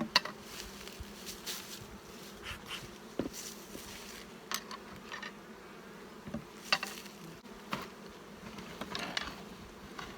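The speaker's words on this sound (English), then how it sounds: "A good nest of bees" Honeybees buzz in a small nucleus colony that has come through winter, a steady close hum with sharper wingbeat bursts as individual bees fly near, and no voices.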